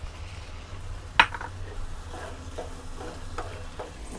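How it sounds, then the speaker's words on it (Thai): Sliced onions stir-fry in a pan for a creamy champignon mushroom soup, giving a soft continuous sizzle with one sharp metallic clink of a utensil against the pan and lighter scraping stirs after it. "ผัดให้หอมใหญ่เขาสลบเลยนะครับ"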